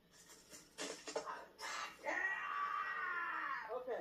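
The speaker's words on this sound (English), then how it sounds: "Oh my gosh, the scream." A person screams in a played clip from a reaction video: a few sharp vocal bursts, then a long, loud, sustained shriek that wavers and trails off.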